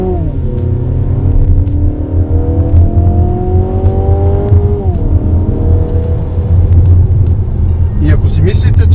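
A 2018 Mazda 6's 2.5-liter naturally aspirated engine drones at steady load, pitch climbing slowly then dropping as it shifts, a loud rumbling cabin sound with brief clicks near the end.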